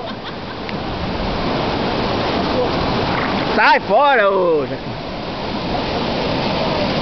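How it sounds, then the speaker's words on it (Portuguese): Water rushes steadily at the Trindade waterfall on the Riozito, a broad continuous roar that runs throughout while people nearby talk and call out over it. "a cachoeira do Trindade, do Riozito"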